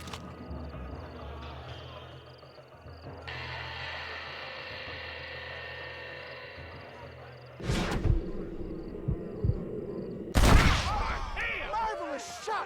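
Gunfire in the Red Dead Redemption video game: two sharp, loud shots several seconds apart over a mechanical hum and game ambience, with brief clattering after the second shot.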